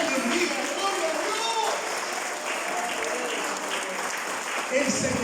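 A church congregation applauds in a sustained, dense round of clapping that holds steady throughout, with voices mixed into the crowd noise.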